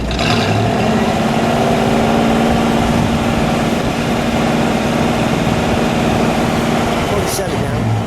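A 1956 Oldsmobile 98 Starfire convertible engine runs loud and close in a deep, continuous rumble, with voices faintly present beneath it.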